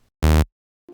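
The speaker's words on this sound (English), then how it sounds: "Next thing I added was the bass, which was just a regular saw wave pitched down" Synth bass from a plain saw wave pitched down, sounding as a single short, buzzy, bright low note about a quarter second long, clean and alone against silence.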